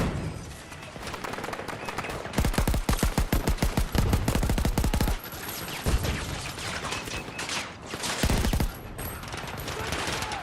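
Automatic gunfire from the video game Battlefield 2042 rattles in rapid bursts, with one long sustained volley and shorter strings of shots, loud and close over a background of game ambience.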